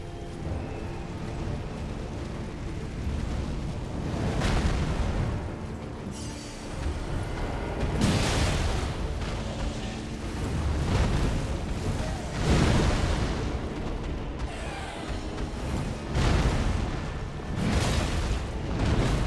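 Heavy explosions in the video game Elden Ring, a series of loud booming blasts in steady succession, each burst swelling and rumbling before the next, with no speech over them.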